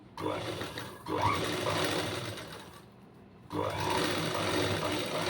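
A computer embroidery sewing machine stitching a blouse neck, a loud, close, fast mechanical whir that runs continuously, stops briefly in the middle, then starts again.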